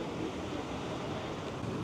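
Turbulent ocean waves churn at Funchal, Madeira, in a steady, close, unbroken roar for about two seconds, with wind buffeting the microphone and no one speaking.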